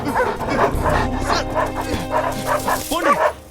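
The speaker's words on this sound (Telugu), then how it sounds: "బాబు ఇన్ని కుక్కలే," Several dogs bark, yip and whimper close by in an excited, overlapping pack, with people shouting over them throughout.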